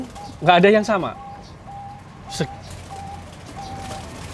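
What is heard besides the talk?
zebra dove (perkutut) cooing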